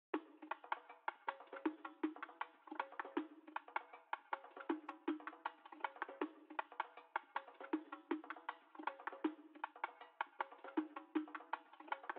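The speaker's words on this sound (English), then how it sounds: "I picked this Chorus of Plenty percloop" A 'Chorus of Plenty' percussion loop from the Euphoria kit, time-stretched, plays on its own as a steady run of crisp, evenly spaced hits with a tight mid-range tone, looping for about twelve seconds.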